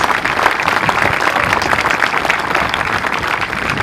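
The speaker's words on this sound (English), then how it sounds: "Let's give them a round of applause." An audience at a school district groundbreaking ceremony applauds the maintenance staff, loud, dense and sustained clapping from many people nearby, steady throughout with no voices over it.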